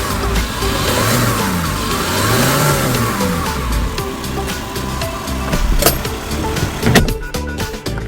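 Diesel engine of a 2024 Hyundai Porter super-cab refrigerated truck revving in bursts, rising and falling close by, with a few sharp clicks and knocks near the end.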